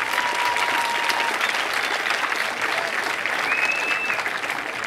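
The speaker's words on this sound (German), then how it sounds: "bitte trotzdem nochmal einen Applaus" Steady, dense audience applause at a science slam event, continuous clapping throughout with a few faint whistles or calls over it.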